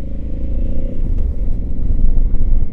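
A 2020 Honda Africa Twin 1100 motorcycle pulls away with a loud, close engine rumble that builds as it accelerates, steady throughout with no talk.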